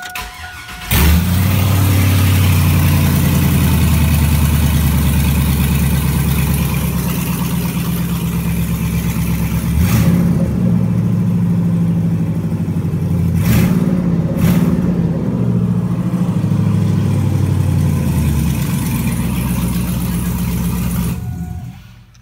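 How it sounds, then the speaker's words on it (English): Chevy Tahoe 5.3 Vortec V8 started and left idling with no exhaust system beyond the manifolds, a loud, raw, rumbling idle close by with a couple of brief revs and no voices. "Have you ever wondered what your car sounds like with no muffler and no exhaust pipes whatsoever?"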